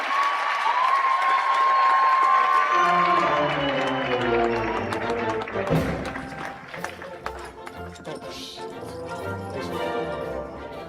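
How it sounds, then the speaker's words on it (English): Audience at a high school graduation processional: a burst of broad clapping fills the first few seconds, then fades under louder tonal music and crowd murmur. "Let's clap it up, clap it up."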